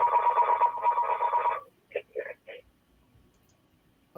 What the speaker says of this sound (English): You might want to mute that phone there, please.